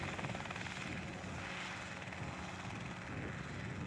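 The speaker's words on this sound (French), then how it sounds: "Le privilège de l'hélico, c'est de pouvoir voler très lentement." A helicopter flying over the Dordogne, a loud, close, steady rotor and engine drone filling the whole stretch without letup.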